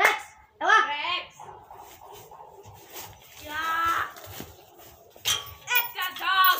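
A dog barks repeatedly in short, sharp bursts at close range, with pauses between barks and some yelping; people talk and call out in between.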